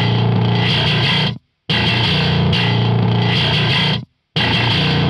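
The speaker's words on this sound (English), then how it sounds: "So without any of the EQ, only the distortion." Heavy bass guitar run through HM2-style distortion with no EQ, loud and saturated, playing three sustained chugging bursts separated by brief silent gaps.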